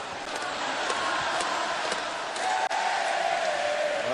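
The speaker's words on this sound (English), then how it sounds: "As the crowd serenades the Cleveland Cavaliers." Basketball arena crowd at a Cleveland Cavaliers game fills the space with a steady, dense roar of cheering and chanting, loud and sustained, with a brief dip near the end.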